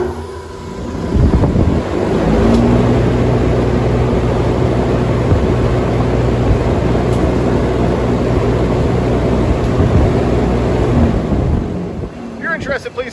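A Dayton 5 HP steel exhaust blower with a 31,000 CFM rating starts up and runs, its steady loud roar and low humming tones holding evenly for about ten seconds before winding down.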